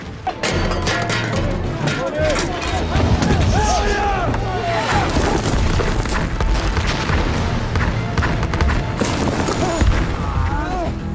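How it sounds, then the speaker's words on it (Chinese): Heavy booming explosions from aerial bombing of hilltop army positions rumble continuously alongside crashing debris and shouting voices, a loud, chaotic barrage. "敌人从拂晓5点开始出动飞机轰炸我军阵地"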